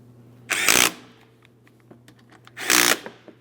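Two short bursts from a power tool snugging the brake caliper slider mounting bolts on a 2005-2010 Chrysler 300 rear brake, each lasting under half a second, loud and close, with a steady low hum and faint clicks between them.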